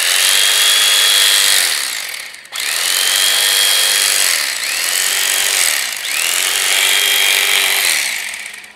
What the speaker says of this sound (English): the best way to cut pork is with an electric knife